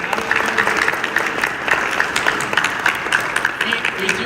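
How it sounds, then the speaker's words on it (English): Steady applause from a large audience, dense clapping filling the room throughout, with some voices mixed in. "you guys should all give yourself a round of applause"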